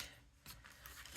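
Scissors snip through craft paper pieces, a few quiet crisp cuts in close succession, faint and close with no talking.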